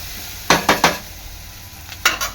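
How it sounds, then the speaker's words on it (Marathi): Onions frying in oil in a pan until well reddened, for a mahua fruit vegetable dish: a low steady sizzle broken by three quick scraping stirs and two more later, close and fairly loud, no talk. "कांदा चांगला लाल झालेला आहे"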